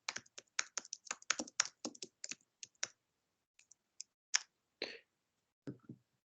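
Rapid bursts of keystrokes on a computer keyboard come close and crisp, a quick run of clustered clicks that thins into scattered, spaced taps toward the end, with no speech over them.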